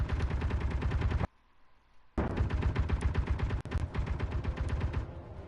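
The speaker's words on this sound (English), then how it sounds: "it was a huge explosion" A base in the video game Helios Underground Survival is struck by huge explosions: loud, dense rapid blasts and rumbling that cut out for about a second, then resume and continue heavily, with no voices.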